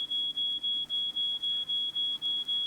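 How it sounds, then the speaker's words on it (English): A smoke alarm set off by burnt toast in a toaster beeps in a steady, fast, high, piercing pattern, about nine pulses in a row, with no voices over it. "We need to do something about that alarm."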